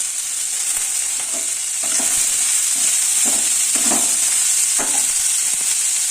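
Chopped onion and carrot fry in a pan for bread pakoda filling, a loud steady sizzle with occasional soft stirring scrapes and no talking.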